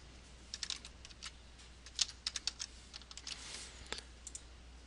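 Fingers type on a computer keyboard, quick irregular clicks and taps close to the microphone over a low steady hum, with no voices.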